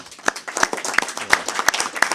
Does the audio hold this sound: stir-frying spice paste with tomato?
no